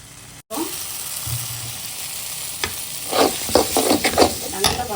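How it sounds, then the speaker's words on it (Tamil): Masala for a mutton ball curry sautés and sizzles in a pan while a spoon stirs and scrapes it, making a steady close fry with bursts of louder stirring. "அந்த மசாலா ஸ்மெல் போகிற வரைக்கும் நீங்கள் என்ன பண்ணணும், அதை நல்லா வதக்கணும்"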